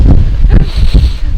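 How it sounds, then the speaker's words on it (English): Strong wind in the Scottish Highlands batters the microphone in loud, low rumbling gusts that pulse unevenly throughout the short stretch. "So windy, I was blown over a few times."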